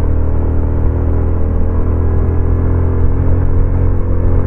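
Motorcycle engine in second gear labouring up a hill, a steady, loud low rumble and whir that holds constant throughout without revving changes.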